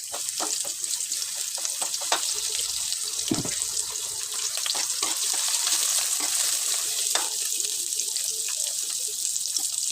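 Chopped onion hitting a pan with fried pork liempo, a broad hissing sizzle with scattered sharp pops and clinks of a utensil, steady throughout and close by.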